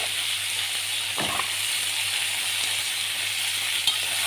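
Vegetables for moussaka fry in a pan with a steady, bright sizzle throughout, broken by one short scraping stir partway through.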